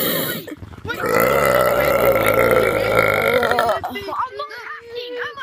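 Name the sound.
burp in a video game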